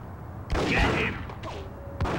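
Gunfire in the video game Max Payne sounds as a loud burst of shots followed by a few lighter, scattered cracks and a sharp final report, with game noise underneath.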